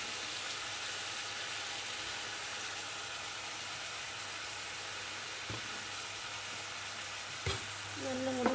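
Chicken momo filling sizzles steadily in a hot pan while soy sauce is stirred in, a continuous frying hiss with a few brief clinks of a utensil near the end.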